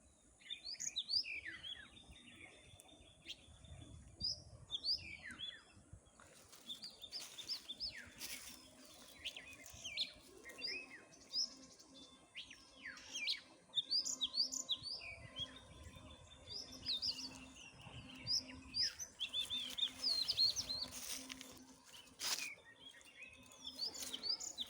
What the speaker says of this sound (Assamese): আপোনালোকে চৰাই চিৰিকটি হেৰিটো শুনক অকণমান।